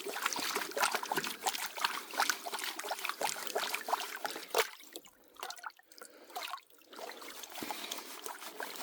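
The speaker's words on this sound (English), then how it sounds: "Kind of using my pan to push the water downstream so that the clean water comes in as I do it." Creek water swirls and sloshes through a gold pan as it is pushed downstream, a continuous close trickle and splash with gentle surges and a couple of quieter dips.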